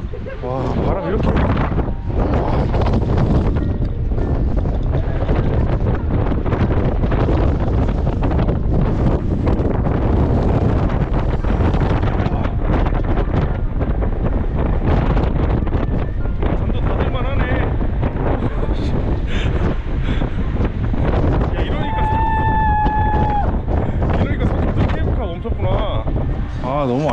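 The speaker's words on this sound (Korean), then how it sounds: "와, 바람 이렇게." Strong wind roars continuously across the microphone on Huashan mountain in bad weather, a loud, steady buffeting with gusts, while people talk underneath and a few brief whistling tones sound near the end.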